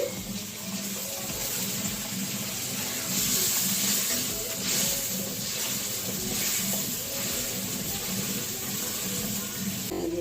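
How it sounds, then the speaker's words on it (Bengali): Water pours steadily into vegetables frying for Bengali shukto, a continuous hissing rush with sizzle underneath, close and even throughout. "জল দিচ্ছি, একটু বেশি করে জল দিতে হবে, আনাজগুলো সিদ্ধ হবে"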